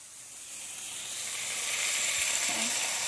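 Food tossed into a hot skillet alongside steak for a country breakfast, a loud, close, steady hiss of sizzling that swells a little over a few seconds, with a brief clink near the end.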